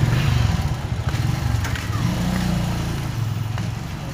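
A motorbike engine runs steadily and fairly close, a continuous mid-pitched drone at a resort entrance with an uncle arriving on it, with faint voices in the background.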